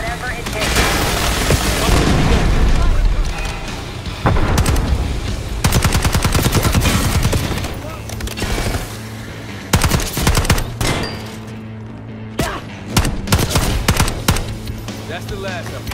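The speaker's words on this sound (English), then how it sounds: "Watch the minigun." Sustained automatic fire from a minigun in Call of Duty Black Ops 6, loud and nearly continuous for several seconds with booms mixed in, fading into scattered shots and game sounds. A voice speaks briefly over the gunfire.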